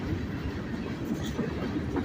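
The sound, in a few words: freight train passing under street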